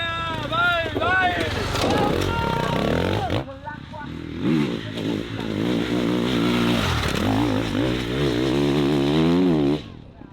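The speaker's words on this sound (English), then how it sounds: "So this is my bike for this year, a KTM 450" A KTM 450 EXC-F factory enduro bike engine revs hard and close, its pitch sweeping up and down through repeated throttle blips, with a voice shouting over it.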